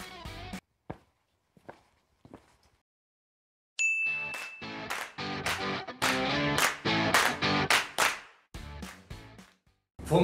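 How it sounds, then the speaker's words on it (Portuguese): Over ten seconds, a YouTube biology channel's intro jingle starts with a few sparse clicks and a chime, then moves into loud, rhythmic percussive hits and musical bursts. "roda essa vinheta!"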